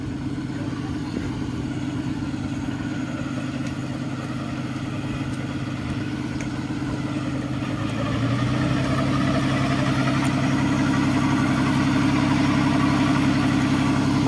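A truck-mounted water pump engine drones steadily as it pumps water from a canal, a continuous mid-pitched hum that grows slightly louder partway through, with no speech over it.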